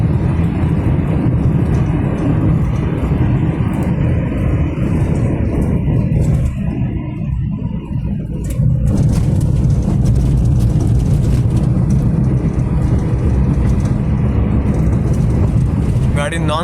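A car travelling non-stop along the road from Konkan to Mumbai, with steady low engine and road rumble and occasional bumps from large potholes, continuous and close throughout.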